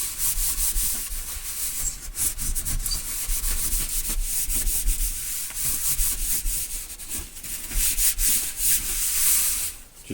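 A cloth dampened with isopropyl alcohol rubs along an Allen and Heath four-channel mixer fader, a steady close scrubbing swish that runs unbroken throughout with no voices.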